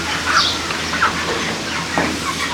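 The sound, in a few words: chickens in a 600-bird broiler chicken farm unit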